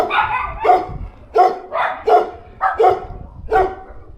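Several dogs bark repeatedly in Chile, a series of about six loud, close barks in an uneven rhythm over roughly four seconds, with no voices.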